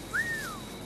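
A single short whistle in Assassin's Creed IV Black Flag, a clear rising then gliding tone lasting under a second over faint ambient game background.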